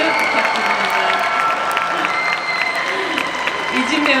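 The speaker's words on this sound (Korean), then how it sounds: "큰 박수 부탁드립니다" An audience at a film festival open talk in Busan bursts into sustained applause, a broad, even roar of many hands with scattered cheers, continuing steadily throughout.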